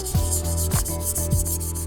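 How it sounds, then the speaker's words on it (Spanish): Wet sanding of fresh base-coat paint on an electric guitar body with wet 600-grit sandpaper, a close, steady back-and-forth scrubbing with rhythmic strokes roughly every 0.6 seconds and no talking. "aquí está lija 600 mojadita"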